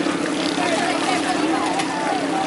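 A racing boat engine drones steadily and loudly at a bangka race festival in Calamba, Laguna, an unbroken motor buzz with a voice talking over it.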